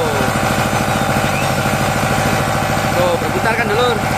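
A non-starting generator engine is turned over with a power drill, producing a loud, continuous mechanical whirring and buzzing drone with steady rhythmic pulsing throughout.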